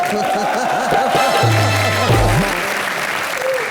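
Loud, sustained applause from a large television comedy show studio audience fills the space, dense and continuous, with a brief low electronic tone cutting through midway.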